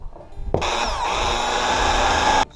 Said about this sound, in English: got my trusty spot weld drill bit set up